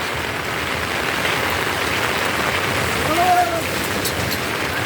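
Steady, heavy rainfall makes a constant broad wash of sound, with a brief faint tonal whine partway through and no speech.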